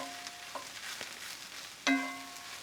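Mushrooms cook in a pan over medium heat for a dairy-free risotto, giving a soft, steady sizzle with faint ticks and one brief sharper clink.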